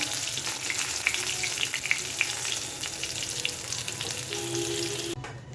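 Two pieces of fish fry in hot oil for a Bengali fish curry, a steady close sizzle and crackle running throughout with faint clinks, cutting off just before the end.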